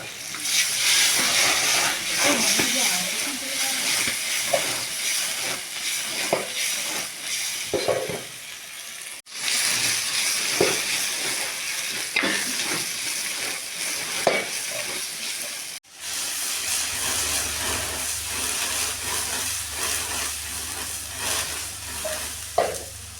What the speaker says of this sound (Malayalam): ആ തക്കാളി ഇട്ട് കൊടുക്കുക. എന്നിട്ട് തീ ഒന്ന് കൂട്ടി വയ്ക്കുക.